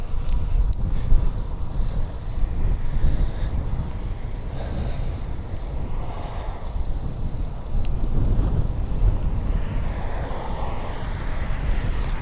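Heavy wind rushes past on a fixed-gear bike ride through town at sunset, a steady loud rumble with gusty swells and brief surges, and nobody speaking.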